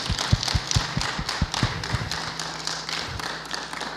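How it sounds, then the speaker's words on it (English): Scattered clapping from people at a city ward community meeting, a loose run of distinct claps over a low hum, fading out after a few seconds. "Give yourselves a round of applause."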